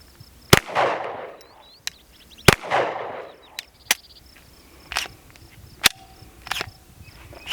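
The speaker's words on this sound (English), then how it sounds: "I'm gonna shoot this one-handed just in case for the first one. Actually, I'll go for the steel." Pistol gunshots fired at a steel target outdoors: two loud cracks, each followed by a rolling echo, then several sharper single shots at irregular intervals, with insects chirping steadily in the background.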